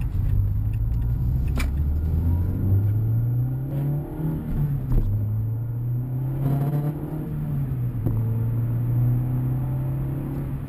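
A Renault Clio 172 engine revs hard from inside the car, pulling through a rising tone that dips and climbs again with each gear change, loud and continuous with rumbling road noise underneath.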